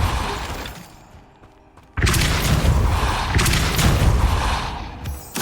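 Depulso spell cast in the Hogwarts Legacy video game, a sudden loud shattering boom that erupts after a quieter stretch and rolls on with crashing debris and rumble, then a second burst near the end.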